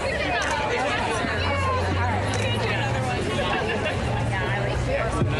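Dense crowd chatter and hubbub at a political rally, many voices blending into a steady loud babble with a low drone underneath, no single voice standing out.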